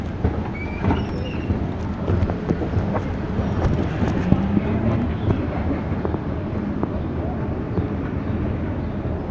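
Rumbling rail noise from inside a moving train car, a continuous low rattle and clatter with scattered clicks and squeaks, steady and fairly loud throughout.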